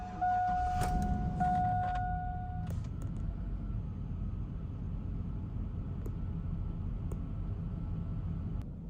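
A 2001 Chevy regular cab short bed project truck with a stock engine cranks briefly and fires up, then settles into a steady, close, loud idle rumble that runs throughout.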